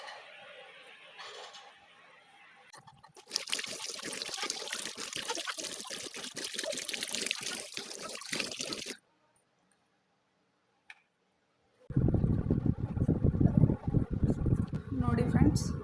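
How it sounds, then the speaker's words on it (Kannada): Water splashing and trickling as a face is washed by hand, bursts of splashing separated by a silent pause, the final stretch louder and closer. "ನಾನು ಇವಾಗ ಮುಖ ತೊಳ್ಕೊಂಡು ಬರ್ತೀನಿ."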